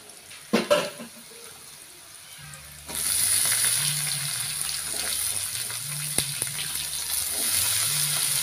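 Snake gourd is sautéed with onions and green chilies: a few quiet clatters, then a loud, steady sizzle bursts up when the gourd hits the pan and continues under a low hum.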